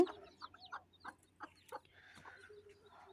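Village desi hens on a small backyard farm cluck in short, scattered bursts, several birds calling close by at a low level with quiet pauses between.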